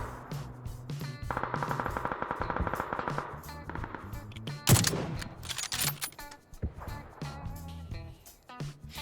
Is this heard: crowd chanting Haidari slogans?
no